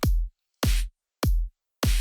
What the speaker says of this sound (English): So right now, the kick and the snare sounds like this.